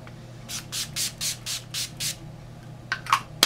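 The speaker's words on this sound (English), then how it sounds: "Then I'm going in with the Urban Decay All Nighter Setting Spray." Several short bursts of Urban Decay All Nighter setting spray hiss in a steady rhythm, close by, followed by a couple of faint clicks.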